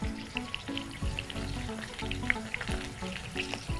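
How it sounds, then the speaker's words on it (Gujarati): Spices frying in oil in a TV cooking-show kitchen, a faint crackling sizzle made of small pops and clicks against a quiet background. "હવે એમાં બાકીના મસાલા તળીએ."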